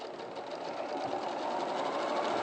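A sewing machine stitches fabric at a quilting studio, a fast, even mechanical whir running steadily and fairly quietly with no voices.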